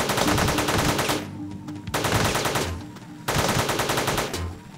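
Machine gun in the video game Teleglitch firing in three rapid sustained bursts separated by short pauses, loud and dense with fast repeated shots.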